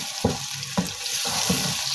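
Chicken pieces for shahi chicken curry sizzle and fry in a pan on the stove, a steady hiss with a few sharp stirring scrapes repeating roughly every half second, close and fairly loud, with no talking.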